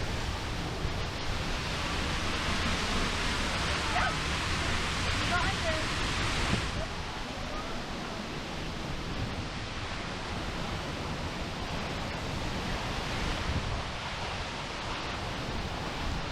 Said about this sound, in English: Starting to get blasted by wind and water at this part.